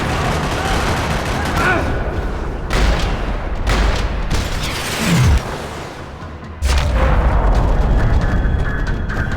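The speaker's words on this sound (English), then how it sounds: "Another parking lot rattling with gunfire." Bursts of gunfire in a parking lot in the video game Max Payne 3, rapid rattling shots and booming impacts in loud clusters with short gaps between volleys.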